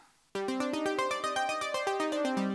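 A resonant Dave Smith Tetra synth arpeggio kicks in abruptly and cycles through rapid, evenly spaced notes, its bassline stepping down near the end.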